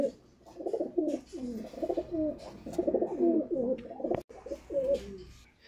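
A high-flying pigeon offered for sale coos in a run of soft, throaty, rolling phrases close by, with a brief knock partway through and quiet background.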